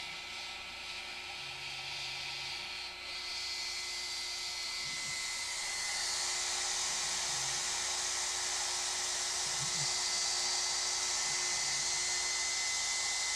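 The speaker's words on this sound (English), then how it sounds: "This is the first time I was using my DeWalt 611 for the Xcarve" DeWalt 611 router on an X-Carve CNC carving thick barn wood, a steady high whine that holds level throughout, with faint low knocks and thumps underneath.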